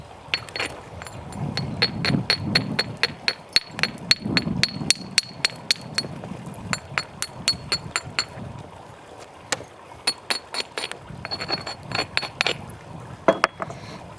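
Flint knapping during primary reduction of a stone core, with a series of sharp, bright clicking strikes as flakes are knocked off, irregular and close, some in quick runs and some spaced apart.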